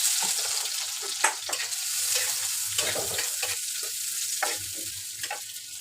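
Whole cumin seeds and chopped onion hit hot oil for a light fish curry, crackling and sizzling up close, with the spatters and bursts of stirring rising and falling and no one speaking.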